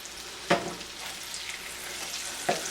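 Moroccan potato cakes frying in a pan, an even crackling sizzle close up, broken by two sharp metallic clinks about two seconds apart, with no one speaking.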